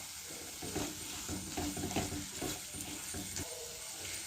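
Spice powders sauté and are stirred in a pan for a curry leaf curry, giving a continuous soft sizzle with repeated scraping strokes of the spoon throughout.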